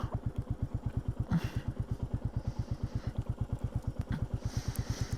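A Royal Enfield Meteor 350cc motorcycle being ridden, its single-cylinder engine thumping in a steady, rapid rhythm close by, with faint wind and road noise and no talking.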